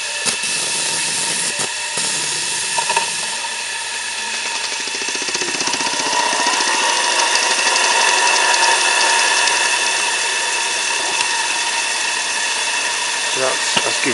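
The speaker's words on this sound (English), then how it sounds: "Let's run the engine to use up a bit of my steam." Steam engine running off a coal-fired vertical boiler, a steady continuous mechanical chuff and hiss with a rattling ratchet-like rhythm throughout, fairly loud and close, with brief voices in the background.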